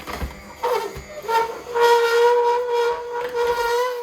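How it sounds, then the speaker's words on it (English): Harsh, tonal squeaking as apples grind through a Ninja cold press juicer, a sustained whining squeal with a few low thumps at the start. "apples were particularly squeaky when going through the press"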